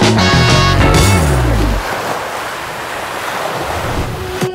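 Ocean surf on a beach at Staniel Cay in the Exumas, Bahamas, with loud, steady wash and wind rumble after a brief burst of tonal sound at the start.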